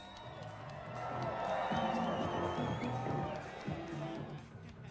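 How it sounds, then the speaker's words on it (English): A crowd at the Psicobloc Masters climbing competition cheers and whoops, swelling loudly then easing off, with shouting voices mixed into the roar. "Please, cheer them on."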